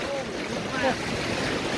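Rushing river water and wind noise surround a raft turning on the Alaknanda river during white water rafting, a dense steady roar heard up close with the boat in the current.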